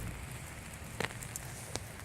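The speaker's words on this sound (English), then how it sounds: "You can kind of see the rain out there." Rain falls outside onto wet streets, a soft steady hiss of drops with a few sharper ticks and pattering hits against a nearby surface, faint and continuous.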